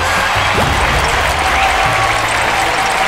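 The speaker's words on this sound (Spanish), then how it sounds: "¡Un aplauso para la valiente Angie Feroz!" Cartoon applause rings out in a Talking Tom & Friends episode, a dense wash of clapping mixed with low thumps and scattered effects, loud and continuous for a few seconds.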